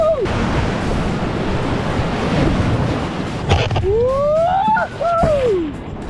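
Ocean surf on a beach vacation, broadband wave wash and wind noise running steadily throughout, with shouting voices and whoops breaking in near the end.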